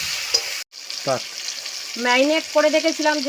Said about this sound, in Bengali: এইভাবে নেড়ে চেড়ে নেব।